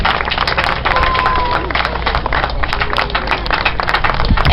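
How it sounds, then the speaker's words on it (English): Loud, sustained crowd applause and cheering at an outdoor Relay For Life charity event as cancer survivors line up on the track for their first lap, a dense steady roar of many hands with voices mixed in. "can I have a big round of applause as they line up on the track?"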